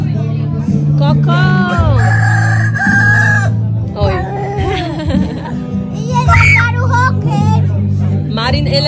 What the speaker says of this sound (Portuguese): aí o galo começa a cantar